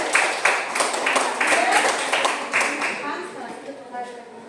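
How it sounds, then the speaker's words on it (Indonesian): Clapping from a classroom of students applauding a student group, with sharp bursts of claps in the first few seconds that thin out and fade toward the end. "tepuk tangan untuk kelompok satu"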